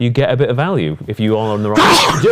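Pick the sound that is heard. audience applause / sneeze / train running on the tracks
sneeze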